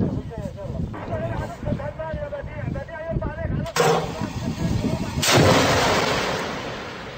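Anti-tank missile launched at a tank on the industrial-city front line in Syria: voices talk nearby, then a sharp loud launch crack followed by a long, roaring rush that slowly fades.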